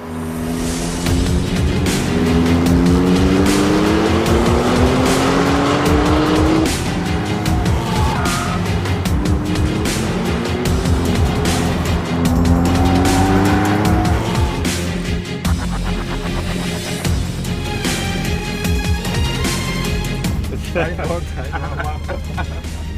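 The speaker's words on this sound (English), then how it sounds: "Now Ralph takes his first laps" A W Motors Lykan Hypersport sports car drives laps, loud engine revs sweeping up through the gears with repeated acceleration pulls and tire noise, heard close, with someone talking over parts of it.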